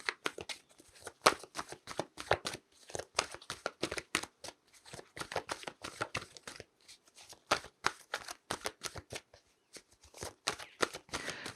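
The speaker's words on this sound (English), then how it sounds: "And then I'll pull an animal spirit card for you." Oracle cards being shuffled by hand for a tarot-style animal spirit reading, a close, continuous run of quick riffling bursts and soft flicks with brief pauses, with no talking.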